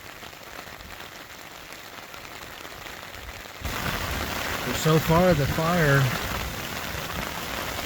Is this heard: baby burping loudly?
no